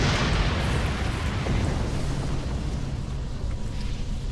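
Torpedo explosion in the Star Trek Online game, a loud rumbling blast at the start that decays into a long, heavy roar fading slowly over several seconds.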